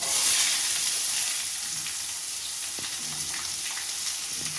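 Chopped onion frying in hot oil with tempering spices, a loud, even, dense sizzle close by that starts strong and settles to a constant hiss, with a few faint clicks and no talking.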